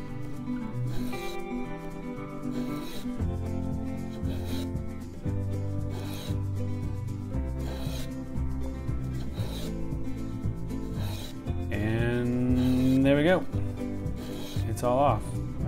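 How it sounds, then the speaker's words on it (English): A hand-made scrub plane takes thick, chunky shavings off a wooden board with repeated rasping strokes, under steady background music, with a louder run of strokes near the end. "Those shavings are super thick,"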